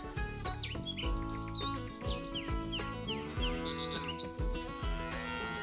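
Songbirds chirp and tweet outdoors, with quick rising and falling calls scattered throughout over a steady musical background.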